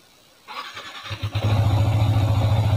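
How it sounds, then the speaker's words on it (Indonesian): A Xabre motorcycle engine cranks briefly, then catches and settles into a steady, throbbing idle close by, with no talking. "Sekarang kita nyalain."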